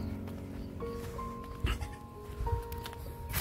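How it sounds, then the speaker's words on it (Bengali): Goats grazing among village houses in Gadkhali give a few short, wavering bleats at a moderate distance over steady outdoor background noise. "এই ছাগল টাগল সব চড়ছে"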